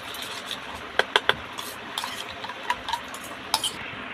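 Salt, vinegar and other ingredients are stirred together in a bowl, with a spoon scraping and clinking against the sides in quick irregular strikes, a few sharper taps standing out over a soft, quiet background and no talking.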